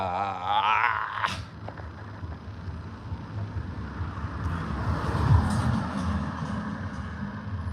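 Cars whizzing past on a road, a steady broadband traffic roar with a nearby vehicle swelling loudly around the middle, no talk.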